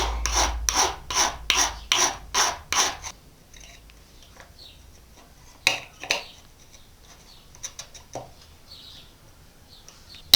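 Several firm rasping strokes file down a raised wooden step piece, a rhythmic burst of about seven strokes near and loud, then scattered quieter scrapes and taps.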